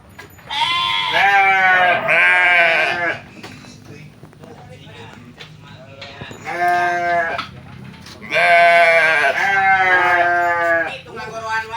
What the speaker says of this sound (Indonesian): Itu ngagoroan wae domba si aki.